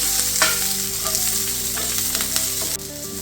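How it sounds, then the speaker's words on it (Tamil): Onions, green chillies and curry leaves sauté in hot oil in a pan for a mutton liver fry, giving a steady close sizzle with scraping stirs and brief louder crackles throughout, with no talking. "வெங்காயத்தை அரைப்பதத்துக்கு வதக்கி எடுக்கணும்."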